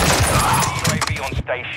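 Short, loud burst of rapid gunfire in Call of Duty Modern Warfare II Warzone, crackling shots in close succession with a brief voice underneath before it cuts off.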